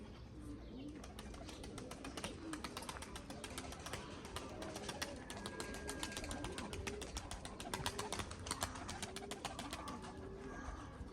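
A young smoky-grey pigeon coos softly and repeatedly amid a dense backdrop of other birds chirping and calling, a steady flock chorus with occasional wing flaps.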